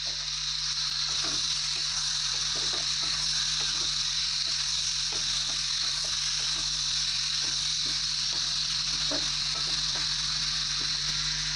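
Pumpkin, prawn and fried potato curry sautéed together in a pan gives a steady, close sizzle of frying throughout, with occasional soft stirring clicks and no talk.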